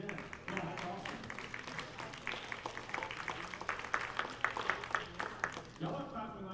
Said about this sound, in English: Y'all are clapping like you're used to seeing it every day.